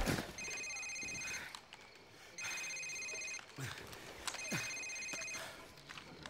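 A cell phone rings in Call of Duty 4: Modern Warfare, its repeated electronic trill returning in three bursts over a noisy, busy game soundscape, fairly prominent but partly buried in the background clutter.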